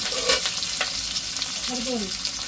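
Onion and green chili fry in hot oil for a meat curry, a close, dense sizzle with light stirring scrapes running throughout.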